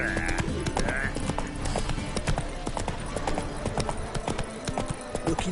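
Hooves of Geralt's horse Roach clip-clop steadily up close in The Witcher 3, a rapid rhythmic patter with a brief whinny-like tone near the start, while game ambience and voices mingle underneath.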